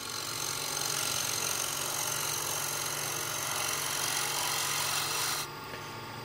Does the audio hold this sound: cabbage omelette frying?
no